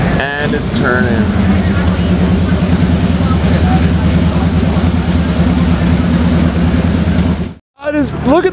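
A McLaren Artura fires up in a cold start and settles into a loud, steady engine drone nearby, with voices talking over the opening and the final seconds.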